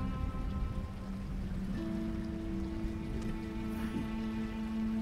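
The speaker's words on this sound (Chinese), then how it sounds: "下雨了" Steady rain falling outdoors, a continuous close hiss of drops on surfaces running throughout, with low tonal music layered underneath and no talk.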